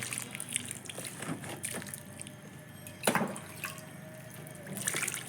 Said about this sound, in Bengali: পারেন অল্প করে জল দিয়ে দিচ্ছি